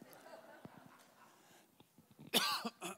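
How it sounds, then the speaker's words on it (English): A loud, raspy cough bursts out near the end after quiet rustling and small knocks, close to the listener. "This cough is a prayer."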